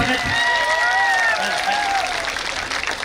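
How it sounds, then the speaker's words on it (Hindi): A crowd claps steadily in sustained applause at a 2024 election rally, loud and dense throughout, with a voice faintly audible over it. "तो एक बार जोरदार तालियां"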